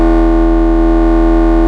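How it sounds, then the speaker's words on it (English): A synthesizer sine wave bass with distortion added holds one loud, buzzing, harmonically rich sustained tone, steady and unbroken throughout. "And of course, let's add distortion."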